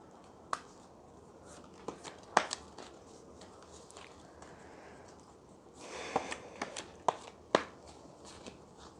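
Tarot oracle cards being shuffled by hand, quiet scattered taps and flicks with a short burst of riffling near the end, soft and close with no voices.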